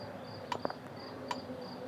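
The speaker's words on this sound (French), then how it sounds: "On entend les grillons." Crickets chirp steadily outdoors, a faint high pulsing trill with a few brief clicks over quiet ambient noise.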